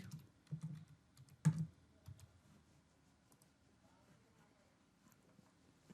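Keys on a computer keyboard are tapped in a faint, quiet cluster of clicks during the first couple of seconds, then mostly fade into a near-silent room.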